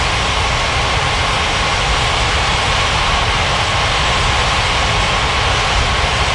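An airliner rolls in to land on runway 35 right at Capeville City International in Unmatched Air Traffic Control 2023, a steady, loud broadband jet roar that holds unchanged throughout with no voices.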